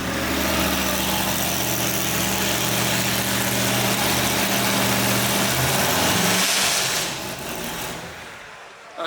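A 1965 Dodge Coronet A990 lightweight with a big-block engine and dual four-barrel carburetors idles loudly and steadily up close, with a deep, throbbing rumble that drops away near the end.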